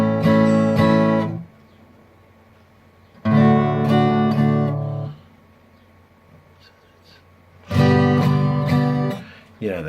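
Guitar strummed in three separate bursts of ringing chords, each one cut off and followed by quiet gaps, so the changes between chords sound hesitant and uneven.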